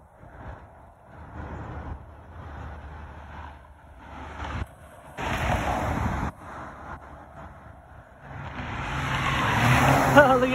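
Traffic at a signalled intersection of Alondra Boulevard and Alameda Street, with car engines and tyre noise swelling as vehicles pass, a steady roadside wash that grows louder toward the end.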